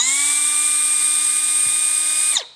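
A Milwaukee M12 3-inch cordless cutoff tool with a brushless motor runs steadily at high speed, a loud, even whine that holds for over two seconds and then winds down quickly, with no voices.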